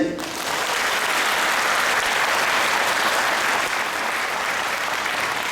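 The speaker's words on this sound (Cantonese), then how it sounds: "已經係最值得所有爸爸媽媽、老師俾你哋熱烈嘅掌聲" Parents and teachers at a kindergarten talent show give a warm round of applause, a steady, full wash of clapping that holds evenly from start to finish after a brief opening sound.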